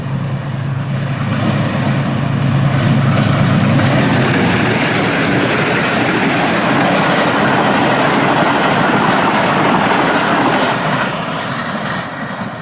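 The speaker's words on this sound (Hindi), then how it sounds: "5 अप ग्रीन लाइन पूरी आबोताब के साथ यहाँ से गुजरेगी, जिसको GU20 लीड कर रहा है पिंडी की तरफ" The Green Line passenger train, led by a GU20 locomotive, rumbles loudly and continuously through the station toward Pindi and Islamabad, with rolling wheel clatter close by and no voices.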